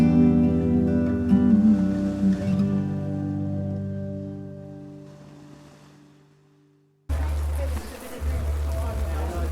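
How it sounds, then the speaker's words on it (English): Torrential rain pounds a marquee roof as a dense, steady hiss. It breaks in loudly after a stretch of soft playlist music fades to near silence. "the now torrential rain that's coming down on the marquee that we're standing in"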